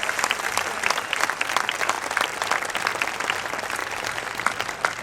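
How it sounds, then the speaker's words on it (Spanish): A crowd at an outdoor political rally in a park applauds steadily and densely, a continuous wash of many hands clapping with no break. "Un aplauso para ellas"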